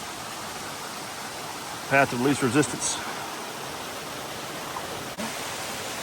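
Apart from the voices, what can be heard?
creek water flowing near waterfall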